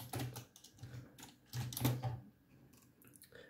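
Fingers type on a computer keyboard during Unity game development, producing quick irregular bursts of clicky keystrokes with short pauses between them. The sound is close, moderately loud and heard alone.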